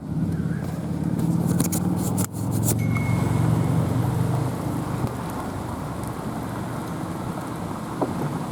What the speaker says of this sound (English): And the rain's intensifying.